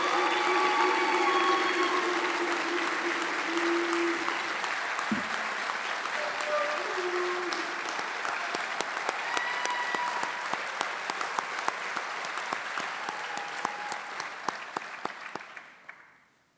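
An audience applauds at a firefighter recruit graduation ceremony, thick sustained clapping that holds steady for most of the stretch before thinning to scattered claps and fading out, with a brief voice early on.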